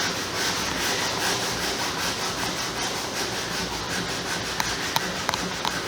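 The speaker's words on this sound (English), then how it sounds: "So let's take this panel right here, and I'll just scrub on it." A Scotch-Brite pad scrubs a Victorian door panel with alcohol, making a continuous rasping back-and-forth rub, close and moderately loud, with a few small clicks near the end.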